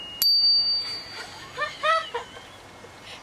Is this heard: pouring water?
no